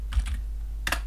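Two short bursts of keystrokes on a computer keyboard while entering figures into a spreadsheet, close and crisp with a pause between them.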